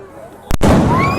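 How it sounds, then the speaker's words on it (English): A firework shot toward police during a campus riot gives a sudden loud bang with a brief gap, followed by crackling, hissing bursts and whistling streaks. Low background noise comes before it. "They shot fireworks directly at police officers."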